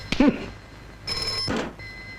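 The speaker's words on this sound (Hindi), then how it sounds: "एक्सक्यूज मी, मेरा फोन।" An indoor telephone rings in two short electronic bursts separated by a brief pause, fairly close and clear, with no talking.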